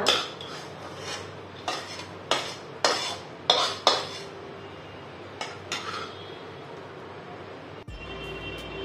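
A spoon scrapes roasted semolina out of a metal pan into a bowl of grated coconut, a series of sharp metallic scrapes and clinks in quick succession, then quieter stirring before a faint hum remains.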